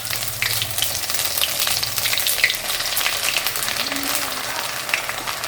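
Garlic and ginger paste fries in a hot pan with a busy, crackling sizzle and scattered pops, stirred now and then, close and fairly loud, with a faint low hum underneath throughout.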